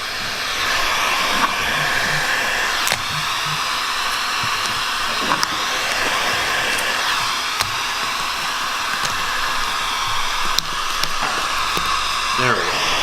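A heat gun blows hot air onto car vinyl wrap as it is laid over a hood or roof, giving a steady hair-dryer-like roar with small clicks and handling sounds, while someone talks over it.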